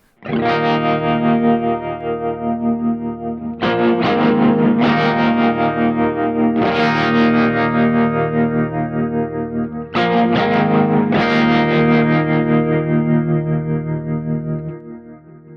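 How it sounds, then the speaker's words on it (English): Distorted electric guitar chords with a pulsing, wavering tremolo, played through a Kemper, strummed in repeated phrases that ring out for several seconds each; loud and upfront, with no voices. "for the chorus, it's got the tremolo on it"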